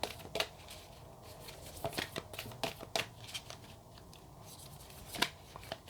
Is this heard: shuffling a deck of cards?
yes